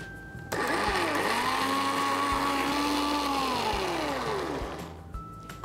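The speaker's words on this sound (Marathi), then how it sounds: "त्याला ह्या मिक्सरच्या जारमध्ये टाकूया। ह्याच्यात पण थोडं पाणी घालूया आणि ह्याला वाटून घेऊया।" A mixer grinder runs steadily, grinding soaked rice with water in its jar. The motor whir is loud and sustained for several seconds, then cuts off near the end.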